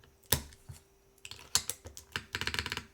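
Typing on a Mode Sonnet mechanical keyboard gives close, sharp key clacks, first sparse and then a quick rapid run of strokes near the end, with deeper spacebar thuds mixed in.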